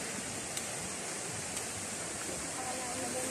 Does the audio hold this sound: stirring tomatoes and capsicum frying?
no